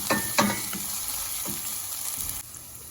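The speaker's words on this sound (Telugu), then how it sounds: "ఇప్పుడు 1 పెద్ద స్పూన్ నిండా అల్లం వెల్లుల్లిపాయ పేస్ట్ వేసుకున్నాం. ఇది వేగనిద్దాం బాగా" Ginger garlic paste and onions fry in a hot pan with a continuous close sizzle. Several spoon scrapes and stirring knocks come early and midway before the hiss suddenly quietens.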